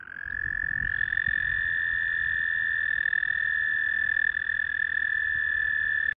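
Two male toads call in continuous, steady high trills that overlap, the second joining after about a second, loud and close with no talking.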